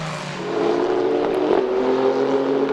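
Renault Sport Trophy race cars accelerate out of turn 4 at the Red Bull Ring, a loud, steady engine roar with a harmonic whine that rises slightly as the cars pass close by.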